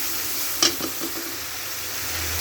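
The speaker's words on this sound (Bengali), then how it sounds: "এখন আমি এগুলোকে ভালো করে মিক্স করে নেব মিক্স করে ভালো করে ভেজে নেবো" Ginger, garlic and onion paste frying in oil for a village-style chicken curry, a soft steady sizzle with a brief scrape of stirring near the start.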